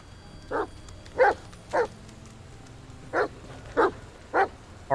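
A dog in the video game The Medium barks seven times in evenly spaced single woofs at moderate distance, loud and clear over a low ambient hum.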